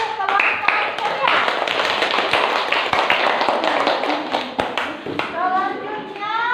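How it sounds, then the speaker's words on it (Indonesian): A classroom of pupils applauds a student group after its presentation, with dense, continuous hand clapping close by and children's voices chattering underneath. "tepuk tangan untuk kelompok ceria"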